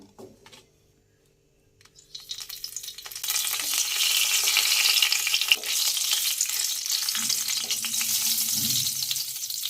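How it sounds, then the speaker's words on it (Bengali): After a short quiet moment, whole spices hit hot oil in a kadai and break into loud, continuous sizzling and crackling that stays strong and close to the end, with no voices. "কড়াতে তেল গরম হয়ে গেছে, এবার আমি ফোড়নটা দিয়ে নেব।"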